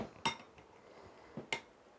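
A spoon clinks twice against a bowl while a yogurt-based home remedy paste for sun tan is being stirred, two short, sharp taps about a second apart over a quiet background.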